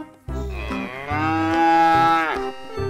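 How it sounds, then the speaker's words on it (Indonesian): An orange cow moos once, loud and close, in a long drawn-out call that rises and then falls away, with no talk over it. "Ada sapi oranye teman-teman."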